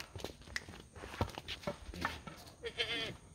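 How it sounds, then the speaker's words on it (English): Goats bleat repeatedly on a goat farm, several calls at varied pitch and distance, mixed with footsteps and shuffling and a voice speaking over them. "Excellent quality goat."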